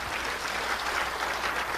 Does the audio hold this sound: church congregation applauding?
yes